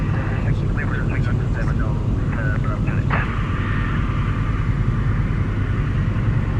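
Tecnam P92 light aircraft engine droning steadily and loudly throughout a touch and go in Bulgaria, with a brief whining tone partway through and voices talking over it.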